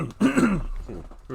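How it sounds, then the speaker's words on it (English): A man in a World of Tanks game session clears his throat once with a rough, gravelly rasp, close to the microphone. "I'll cough a couple more times."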